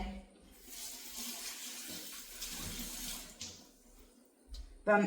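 Water runs from a tap in a steady splashing stream, fairly quiet, stopping and starting briefly before a clatter at the end.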